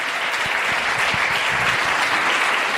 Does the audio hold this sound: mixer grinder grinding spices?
no